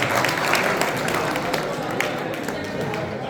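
Loud, sustained audience applause welcoming the poet Chand Fatafat at a mushaira in R K Garden Banquet Hall, Kiratpur; many hands clap in a busy, crackling wash with a crowd murmur beneath.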